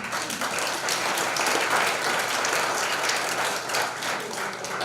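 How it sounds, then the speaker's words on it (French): Audience applause at a volunteering conference, a dense steady wash of many hands clapping that holds at an even level for about five seconds, close and continuous with no voices over it. "On l'applaudit."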